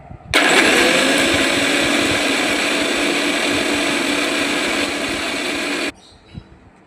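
An electric blender grinds cashew nuts and spices into a paste, a loud continuous whirr lasting about five and a half seconds that starts abruptly and stops sharply, with faint kitchen noise before and after.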